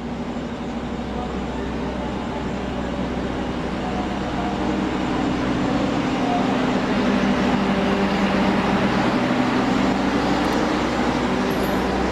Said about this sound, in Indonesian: Argo Merbabu langsung berangkat lagi.